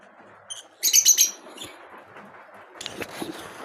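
Pet lovebirds with two chicks in a breeding box let out short bursts of sharp chirping, once early and again near the end, with quieter rustling between the bursts.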